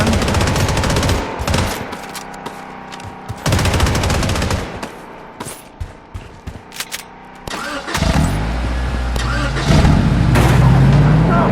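AK-47 fire in the Blood Strike video game comes in loud bursts of rapid shots alongside engine and vehicle noise, with a voice talking between the volleys.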